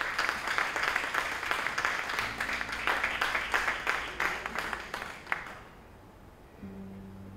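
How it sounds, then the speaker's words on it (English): Audience applause at a 2018 library concert, a dense wash of many hands clapping for about five seconds before fading out, followed by quiet room tone and a faint low hum. "Let's give them a big round of applause."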